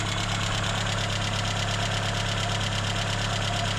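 An old van engine idles steadily on LPG, a low, even rumble with a faint rhythmic knock running through it, close by and continuous.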